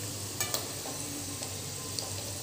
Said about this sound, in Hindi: ऐसे इसको गोल्डन ब्राउन होने तक हम फ्राई करेंगे।